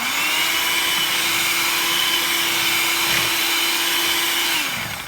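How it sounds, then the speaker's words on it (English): Sweetened cream, with two teaspoons of sugar added, is whisked to thicken it, giving a loud, steady droning whir that holds unbroken before cutting off just before the end. "we're going to just whisk it a little bit"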